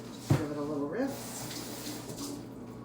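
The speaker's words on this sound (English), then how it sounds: "Just give it a little rinse." Celery stalks rinsed under a running tap, a steady wash of water noise through most of the stretch, with a voice briefly heard near the start.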